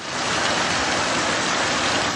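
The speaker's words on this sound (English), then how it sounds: "Bursts of heavy rain persisting throughout the day" Heavy rain pours down steadily during a southeast Queensland downpour, a dense, loud, unbroken hiss of water striking surfaces, with no voices.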